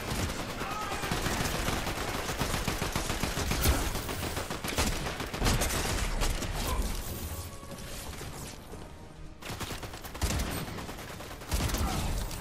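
In the Fortnite video game, rapid bursts of gunfire crack loudly and closely in dense, repeated volleys mixed with mechanical clatter, easing briefly before sharp shots return.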